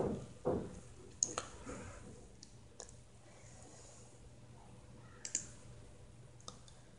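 Faint, sparse mouse clicks, a few light isolated taps spaced seconds apart, sound in a quiet room while someone works through a GST e-way bill website.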